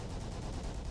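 Gunfire in the World War 2 Online video game rumbles as dense, distant, overlapping shots that merge into a continuous low crackle.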